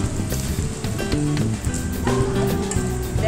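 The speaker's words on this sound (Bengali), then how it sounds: "ছোট ঝাঁঝরি দিয়ে আমি করছি, দেখো নাড়া দিচ্ছি" French fries deep-frying in a pan of oil, stirred with a small slotted spoon, give a steady close sizzle with soft crackling and a few light scraping touches, alone without talk.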